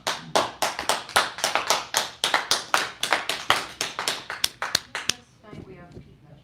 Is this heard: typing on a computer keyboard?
no